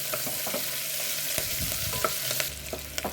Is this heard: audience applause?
no